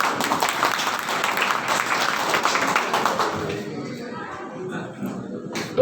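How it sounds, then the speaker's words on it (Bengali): An indoor meeting audience breaks into loud clapping that holds steady for several seconds, then thins out and fades, leaving a quieter room with a few scattered sounds at the end. "তাহলে একটু হাততালি দিন।"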